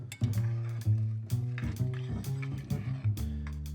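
Holiday cocktail mixture with orange being stirred, spoon clinks and knocks against the container in an irregular rhythm over a steady tonal background, close and moderately loud.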